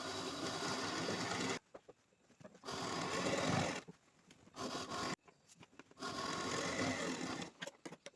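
Sewing machine stitching an embroidery blouse, running in three bursts of steady rapid whirring, each a second or two long, separated by quiet pauses; close and fairly loud with no talk.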